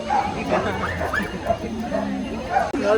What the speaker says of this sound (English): that's Chat talking to Snoopy